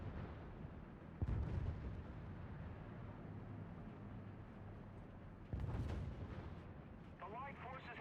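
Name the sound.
artillery fire in a video game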